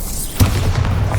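A Bombarda spell detonates in the Hogwarts Legacy video game, a sudden loud boom followed by a sustained low rumbling roar with crackling debris.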